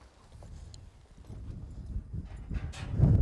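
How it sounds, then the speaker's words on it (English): A horse walks on a ranch, its hooves clip-clopping in an uneven rhythm that grows louder and closer toward the end. "my horse needs lots of riding"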